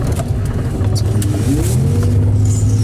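A 1990 Porsche 911 964 Carrera 2 Targa Tiptronic engine accelerating loudly on the road while passing a stopped truck, a steady rising drone heard from inside the car.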